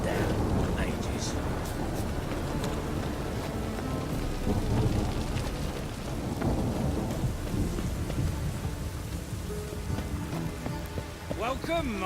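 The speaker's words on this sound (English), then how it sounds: "Rain again." Steady rain pours down with low rumbling thunder in The Witcher 3: Wild Hunt, a continuous dense wash of rainfall throughout and a faint voice in the background.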